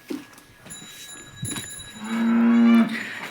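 A cow moos once, long and loud, close by, after a few scattered thumps and rustles.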